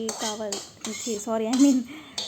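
Roasted vermicelli is scooped from a metal pan onto a plate, with several ringing metallic clanks and scrapes of utensil on cookware, close and fairly loud, with no voices.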